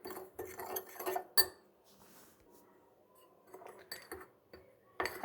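Cocoa powder and flour are mixed in a bowl, making close, intermittent clinks and scrapes of a utensil against the bowl in short bursts separated by quieter stretches, with no talking.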